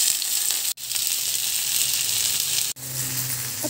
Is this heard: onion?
yes